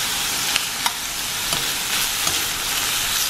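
Food fries in a pan with a steady, bright sizzling hiss, close and even, broken by a few faint pops and crackles; no voices.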